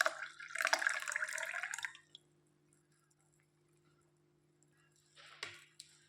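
Water pours and splashes out as soaked almonds and raisins are drained, about two seconds of gushing, then quiet before a short trickle near the end.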